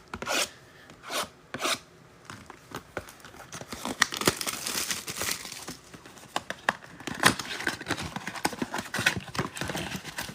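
Topps Chrome blaster box card packs are torn open and handled, with wrapper crinkling, tearing and rustling at close range, busy and continuous, starting with a few short bursts of rustle.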